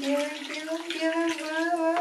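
Water pours steadily into a baby's bath, a continuous close splashing rush, with a voice sounding over it throughout.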